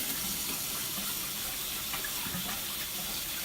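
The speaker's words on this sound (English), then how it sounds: "you pull it outwards to turn the water on" Water runs steadily from a single-handle oil-rubbed bronze bathroom faucet in a constant hissing stream, close by, with faint clinks underneath.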